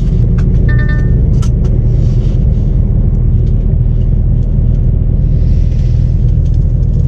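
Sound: cars driving off a ferry

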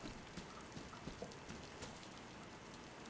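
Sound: rain in the video game DayZ

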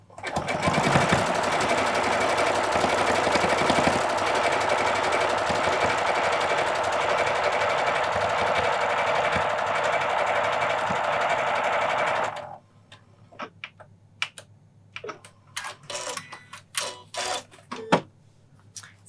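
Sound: Janome sewing machine stitching with edge guide foot

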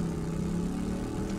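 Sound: motorcycle engine in video game 7 Days to Die

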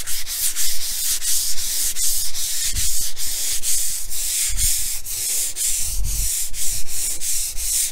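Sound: sanding a painted cabinet top with heavier grit sandpaper

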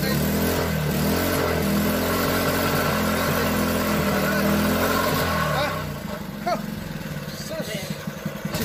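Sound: Honda GX120 small engine running after starting

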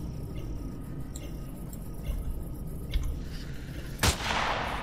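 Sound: sniper gunfire in the video game Empyrion

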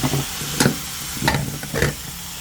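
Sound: catfish being stir-fried in a pan

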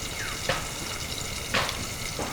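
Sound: potatoes frying in a covered pan

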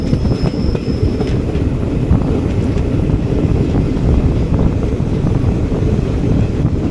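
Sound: train running from New Alipurduar to Siliguri

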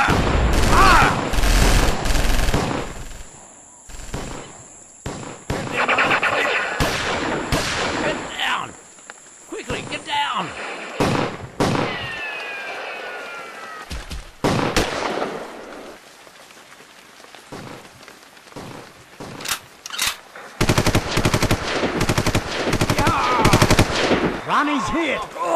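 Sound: gunfire in an old war film

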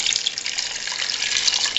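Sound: water poured into a pan with cooking fat

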